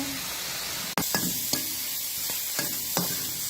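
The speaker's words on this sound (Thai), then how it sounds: "ตอนนี้เราจะผัดนะคะ ก็เห็นน้ำไหม จากส่บัวนะคะ" Lotus stems stir-fried in a pan with no added water as their juices cook out: a steady close sizzle, broken by about six sharp scraping strokes of the spatula.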